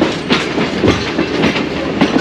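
Train wheels clatter over track switches in Lahore Junction yard as the Subak Kharam pulls through, a loud, close, dense rumble with irregular clicking and clanking beats.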